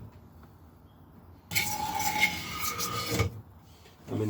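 A cabinet scraper drawn across the wooden body of a 1959 Les Paul Special guitar gives a close, raspy scraping that starts abruptly, runs for a couple of seconds, then stops, with a brief rasp returning at the end.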